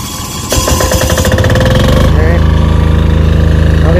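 A Firman FDG 9000 SE2 silent diesel generator with direct injection cranks and starts. A brief starter whir settles into a loud, steady, rhythmic diesel chug, close by.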